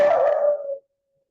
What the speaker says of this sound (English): And you can hear the puppies in the background.